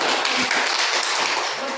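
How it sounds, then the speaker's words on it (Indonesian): A classroom claps steadily for a couple of seconds, a dense, even patter of many hands close by. "Tepuk tangan untuk"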